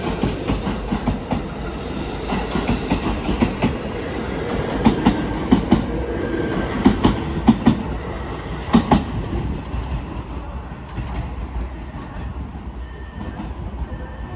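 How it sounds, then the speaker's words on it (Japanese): A JR 733 series 3000-subseries rapid airport train on the Chitose Line rolls along with steady rumbling and rhythmic wheel clatter, loud and continuous and fading slightly toward the end. "The rapid airport train for New Chitose Airport will be departing."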